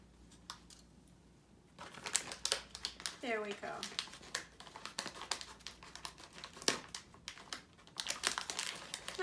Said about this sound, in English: Let's open these guys up. Let's get our scissors out.